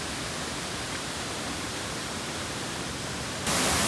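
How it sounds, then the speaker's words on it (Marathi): The Dhodani waterfall in Konkan, seen during heavy monsoon rain, gives off a constant broad roar of falling water and rain, even and unbroken, with a brief louder burst at the very end. "तो धबधबा बघा"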